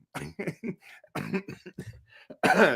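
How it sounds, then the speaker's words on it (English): A single harsh, close cough bursts out at the end, following a stretch of halting, broken sounds. "All of a sudden, I have a cough."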